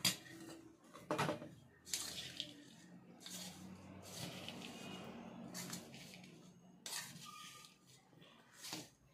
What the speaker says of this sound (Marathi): आता हा आपण गूळ आणि खोबरं मिसळलेलं आहे ना, ते आपण गॅसवर ठेवून असं हलवतोय।